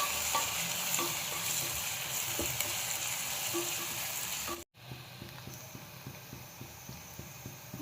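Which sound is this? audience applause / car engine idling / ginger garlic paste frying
ginger garlic paste frying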